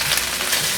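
Black and white wood ear fungus with lotus root stir-fried in a hot wok, a dense, steady close-up sizzle throughout the short moment.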